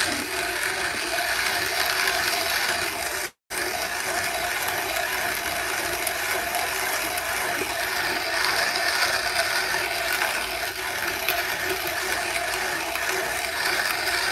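A hand grinder grinds coffee for a ROK espresso maker with a steady, close, ratcheting crunch. The sound runs continuously except for one brief break near the start.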